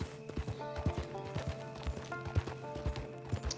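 Steady, rhythmic hoofbeats of a horse clip-clopping along at a walking pace in Red Dead Redemption 2, fairly faint, with light mechanical rattles and no speech.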